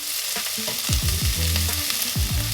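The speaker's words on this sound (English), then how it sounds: "Add in 1 tablespoon of olive oil. Then add in the onions, carrots and the celery." Onions, carrots and celery frying in olive oil in a pan over medium heat, a busy sizzle broken by scraping stirs and low knocking utensil strokes close by.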